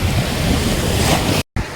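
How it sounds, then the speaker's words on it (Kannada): Big ocean waves break on a beach at Byndoor in Udupi as a loud, continuous roar of surf mixed with wind buffeting, cut by a brief dropout near the end. "ಅಲೆಗಳು ಮಾತ್ರ ದೊಡ್ಡ ದೊಡ್ಡ ಬರತ್ತವ"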